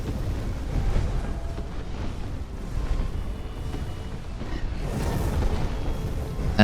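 A dragon in the Roblox game Realm of the Beast breathes fire, a low, rumbling roar that rises and falls in whooshing surges for several seconds, with no voices.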